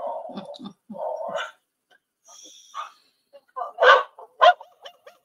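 A dog barking and yelping in short, loud, close bursts, mixed with whimpering and rough vocal noises, with brief pauses between outbursts.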